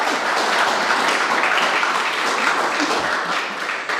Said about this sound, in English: So a big cheer for the girls who are here sitting behind me.